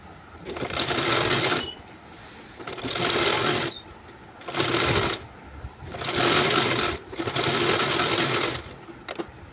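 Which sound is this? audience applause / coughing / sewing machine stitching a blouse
sewing machine stitching a blouse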